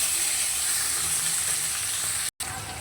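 Chopped onion and garlic fry in a pan for a taro-leaf dish, giving a dense, steady hiss close by, with faint stirring beneath and one very short dropout near the end.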